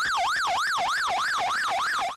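A police car siren wails in a steady, rapid up-and-down sweep, loud and close throughout with no voices over it.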